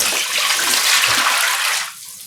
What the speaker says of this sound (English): So I'm pouring another